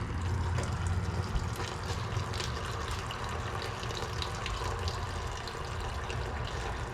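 Gear oil drains from the rear differential of a Ford Explorer Sport Trac in a steady, continuous liquid pour into a pan, close and moderately loud, with no speech.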